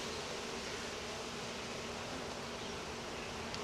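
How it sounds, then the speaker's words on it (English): Honey bees swarm around an open hive during an inspection, a steady close-up insect hum that stays even and continuous throughout, with no talking over it. "There's a lot of bees kind of active here."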